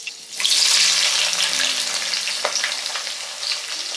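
A large amount of chopped onions dropped into hot oil in a pan: a sudden loud sizzle bursts up close, then settles into a steady crackling fry with occasional sharper spits.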